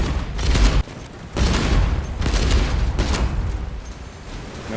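Naval cannon fire from warships attacking escort boats in the Age of Water game, heavy booming bursts in repeated volleys with rumbling low end, loud and continuous with brief gaps.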